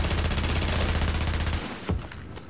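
Enemy gunfire in The Division, a loud rapid automatic rattle of shots that fades out toward the end with one more thump, no talk over it.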